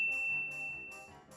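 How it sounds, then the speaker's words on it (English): A notification bell sound effect rings as a few bright, sustained dings in steady succession, clear and close, with no voices. "ring the bell to be notified about our latest videos"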